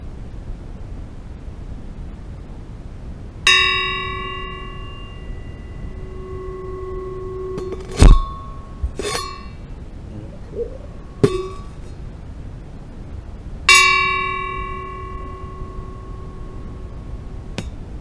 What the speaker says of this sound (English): So you find that it has a very deep resonance, and many an artisan bell has that sort of thing.